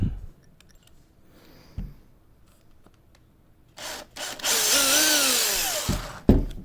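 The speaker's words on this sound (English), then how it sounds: "Just a quick little tap with the drill bit." A power drill whirs up to speed in a sustained, rising whine for a couple of seconds as its bit taps a registration mark on a Warlord Titan model, then stops with a clunk after some quiet handling noises.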